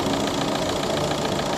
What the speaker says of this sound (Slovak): Oveľa lepšie vrčí ten motor.